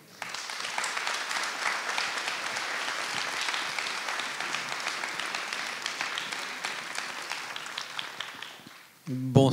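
An audience applauds an astrophysicist as he is welcomed to speak, a broad, sustained round of clapping from a sizable crowd that fades before a voice begins at the very end.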